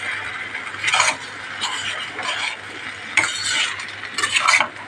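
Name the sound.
stirring sago kichadi mixture in a pan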